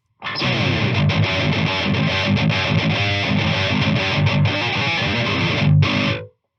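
Electric guitar played through a Stonegate Messenger one-knob boost pedal, a loud, driven and slightly distorted run of strummed chords and picked notes that rings on steadily for about six seconds, with no talking.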